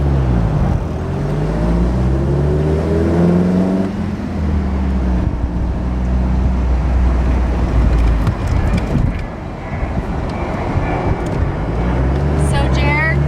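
A 1965 Triumph TR4 sports car drives off, its engine revving and shifting through gears with a steady rumble and some wind noise, with people talking over it.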